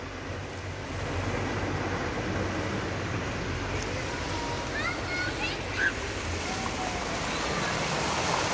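Water splashing and rushing steadily in an illuminated outdoor pool fountain in Ankara, a continuous broad wash of flow lasting throughout, fairly close, with no distinct breaks.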